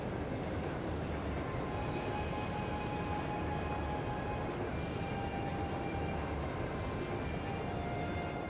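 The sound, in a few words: military train in video game Trails of Cold Steel II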